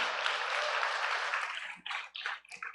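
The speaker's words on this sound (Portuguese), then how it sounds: "Aplauda Jesus pela vida da Patrícia." Dense church congregation applause swells steadily, then breaks into a few scattered claps and short bursts as it dies down; no voices.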